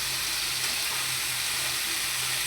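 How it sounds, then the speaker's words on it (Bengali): Potatoes and bitter gourd frying in hot oil give a steady, dense sizzle that holds close and even for the whole stretch, with a faint low hum underneath. "আগে তেলে ভেজে নেব"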